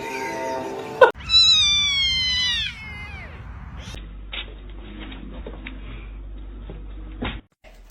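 A cat lets out a drawn-out, rising-and-falling meow up close, followed by a rustle and some clattering, with no talking.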